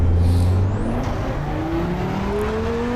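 A KTM X-Bow GT2 race car in Assetto Corsa Competizione accelerates around the Red Bull Ring, its engine note climbing steadily through the gears, loud and close, with a gear change partway through.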